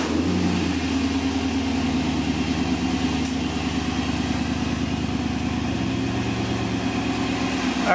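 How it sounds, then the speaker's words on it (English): A Chevrolet K1500 pickup engine idling after an AC repair, a steady low mechanical rumble with an even pulsing rhythm, close and continuous with no talk over it. "so we've got a normal sounding idle"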